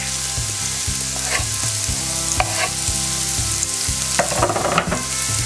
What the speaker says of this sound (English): Now we throw in the garlic.